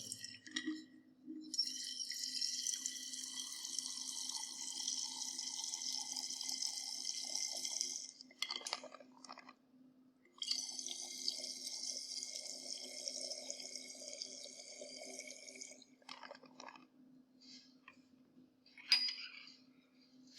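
Water pours steadily into a glass conical flask in two long streams with a short pause between, rising in pitch, then a few drips and a light clink.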